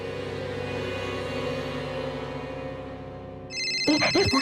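A steady electronic ringtone plays continuously, then cuts off abruptly and a voice begins speaking nearby.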